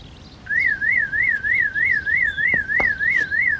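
A car alarm warbles, rising and falling in a steady repeating cycle, loud and continuous, with a couple of faint clicks partway through.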